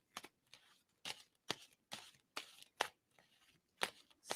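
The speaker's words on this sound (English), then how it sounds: "tell me to stop shuffling" A deck of cards is shuffled in a quick series of crisp riffles, about ten short bursts spaced close together at low volume.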